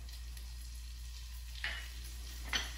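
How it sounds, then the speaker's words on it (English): Butter melts and sizzles softly around softened onions in a pan, a faint, steady frying hiss with two brief utensil scrapes near the end. "The onion is softened, so I'm going to add our remaining 2 tablespoons of butter."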